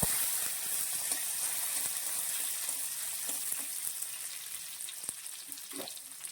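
Chopped ginger, a few garlic cloves and curry leaves sizzle steadily as they sauté in a hot pan for a Kerala crab masala curry, with faint stirring scrapes and clicks close by and no voices.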